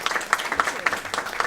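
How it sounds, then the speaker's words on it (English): Applause rises from the audience at a candidates' night hosted by a local League of Women Voters. The moderately loud clapping is dense and uneven, with some sharp individual claps standing out. "now it's time for a round of applause"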